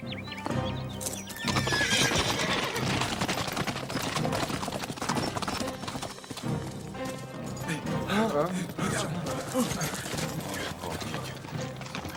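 A horse whinnies loudly while hooves clatter steadily nearby, with voices and other commotion mixed in.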